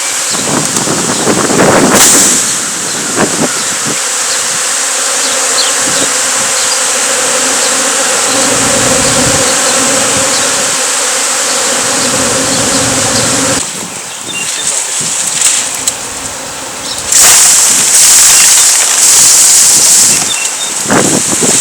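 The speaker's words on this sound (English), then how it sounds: "That's a good bit of bees." A swarm of bees buzzes loudly and continuously right up close, a dense droning hum that swells and shifts as insects move around, with brief rustles and no speech.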